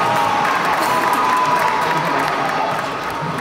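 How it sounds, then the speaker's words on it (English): Children at Legoland applaud and cheer for a child's Lego flying dinosaur, a loud, dense crowd roar of clapping mixed with shouts and whoops, sustained throughout. "Let's give a big round of applause for this"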